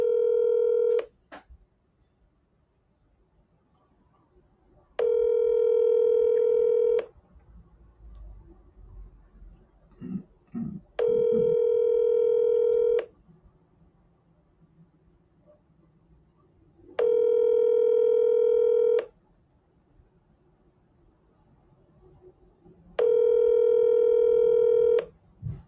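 A telephone call being placed, with a short burst of keypad dialing tones at the start followed by a ringback tone repeating in long evenly spaced pulses, loud and clear with quiet gaps between.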